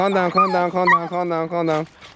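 Excited dogs whine and whimper in a long, high, wavering run of yelps and yips, close and loud, with a brief fade at the end.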